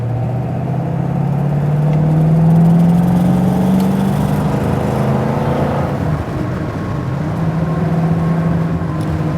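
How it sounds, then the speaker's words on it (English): A 1967 Ford Mustang Fastback GT with a 390 engine accelerates, its close, loud exhaust drone rising in pitch, easing off, then climbing again in a steady rumbling whir. "Just lightly press the accelerator and you can feel this car surge forward."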